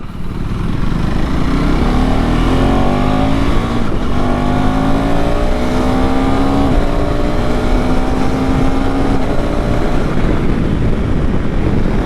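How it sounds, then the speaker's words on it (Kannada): A KTM ADV 390 motorcycle engine revs hard off-road, loud and close, with rising pitch sweeps from repeated quick upshifts, alongside a Suzuki V-Strom 800DE, running steadily for the whole stretch with no talk. "typical K T M character ಗೊತ್ತಲ್ಲ ನಿಮಗೆ ಬೇಗ ಬೇಗ ಗೇರ್ ಶಿಫ್ಟ್ಸ್ ಮಾಡ್ತಾ ಇರಬೇಕು"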